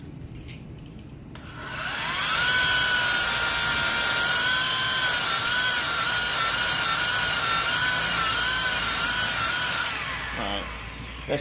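A rotary car polisher spins up to spur and clean its pad, a loud steady high-pitched whir that rises after a short quiet lead-in, holds evenly for several seconds, then winds down near the end.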